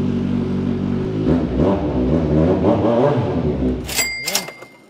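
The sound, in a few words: 1000cc inline-four motorcycle engine revving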